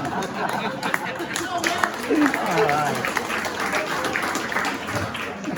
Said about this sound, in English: Everybody give a round of applause for Dave Clues.